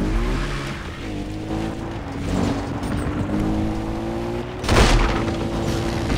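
A car in the video game Far Cry 3 drives with a loud engine drone that shifts pitch, then a sharp tire skid bursts in near the end.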